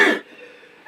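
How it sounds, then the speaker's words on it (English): A single loud cough from an adult man, a harsh burst in the first fifth of a second, then a quiet, breathy tail. "This cough is still persisting."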